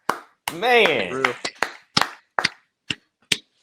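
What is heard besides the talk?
round of applause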